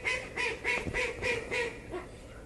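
A duck quacks in a loud, close series of about six rhythmic nasal calls, then one weaker call, at an outdoor airgun target range, with no talking over it.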